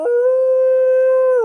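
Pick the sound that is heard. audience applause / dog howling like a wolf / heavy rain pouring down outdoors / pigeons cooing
dog howling like a wolf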